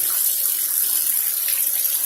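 Tap water runs steadily into a sink during drain cleaning, a constant close hiss of flowing water with no pauses and no voices.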